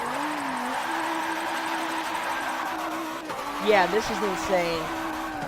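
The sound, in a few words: car drifting with tires skidding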